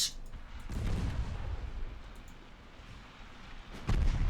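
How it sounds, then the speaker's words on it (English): Torpedo hits exploding on warships in the naval strategy game Ultimate Admiral Dreadnoughts, a sharp burst at the start, then rumbling blasts swelling and fading, and another heavy boom near the end. "Torpedo hits. Torpedo hits."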